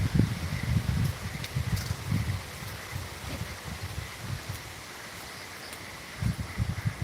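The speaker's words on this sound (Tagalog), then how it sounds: "nag-uumpisa naman dito ngayon yung palakasan ng hangin" Typhoon wind gusting through coconut palms and foliage at a house shelter, with low rumbling gusts swelling and easing in waves and a steady rushing hiss of leaves beneath, moderately loud with no voices.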